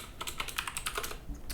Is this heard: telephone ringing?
no